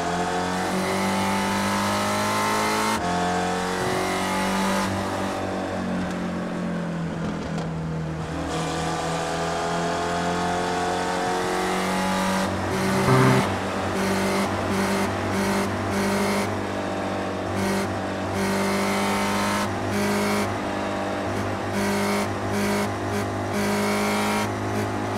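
Race cars in the iRacing video game, SRF cars at VIR, roar toward the finish line, with loud sustained engine drones, repeated gear-shift revs and rapid changes in pitch as cars pass close by.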